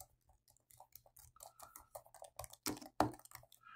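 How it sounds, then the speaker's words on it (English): Keys clatter as someone types on a Microsoft Surface Laptop Studio 2 keyboard, light irregular clicks close by in a quiet room, with a few heavier taps toward the end. "I'm going to go ahead and do some typing."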